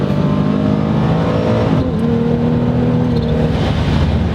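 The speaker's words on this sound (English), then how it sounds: "The blower's so loud when you let off, it almost sounds like you're going through a puddle." A supercharged 3.7-liter V6 Mustang drives with a loud blower whine layered over the engine's steady drone, the tones shifting as the throttle changes, continuous and close.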